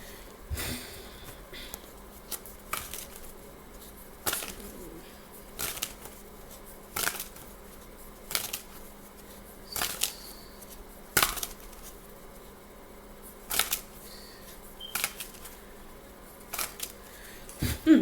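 Soft, irregular bursts of tarot cards being shuffled and riffled, repeating every second or so over a quiet room hush.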